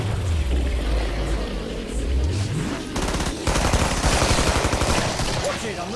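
Thompson submachine gun in the video game Killing Floor, rapid bursts of automatic fire in the second half, dense and loud, after a stretch of engine-like game rumble.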